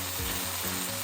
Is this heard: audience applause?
no